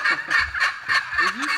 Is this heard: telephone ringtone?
no